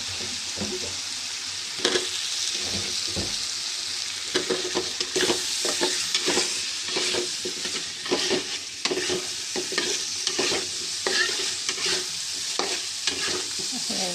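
Large chunks of new potatoes sizzle and fry in a pan while a utensil stirs them, steady hissing broken by repeated scraping clatters close up, no voices.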